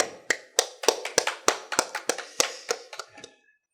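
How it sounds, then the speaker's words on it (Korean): Sparse applause from a small group at a Sunday evening church service: a dozen or so distinct, uneven hand claps ringing in a quiet room before tapering off. "박수 소리가 적어서 죄송합니다."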